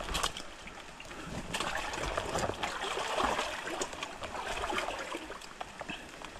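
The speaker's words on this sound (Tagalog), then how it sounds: "Yan po ay bukal dun. Bukal na napakalaki." A large natural spring in a forest sends out a steady, moderately faint flow of water that gurgles and trickles continuously, with small splashes and no voices.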